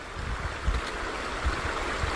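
A Montana river flowing, a steady, loud broadband rush of moving water with occasional surges, heard up close with no talking.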